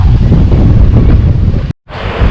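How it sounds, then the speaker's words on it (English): Strong wind buffets the microphone on the coast at Happisburgh, a loud, roaring rumble with a brief cut of silence near the end before the gusts resume. "So it's quite windy down by the sea in Happisburgh this afternoon"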